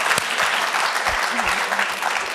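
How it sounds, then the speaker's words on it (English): Audience applause at a talk, a steady crowd patter of clapping throughout with a voice speaking briefly over it. "Okay, wild applause. Wild applause."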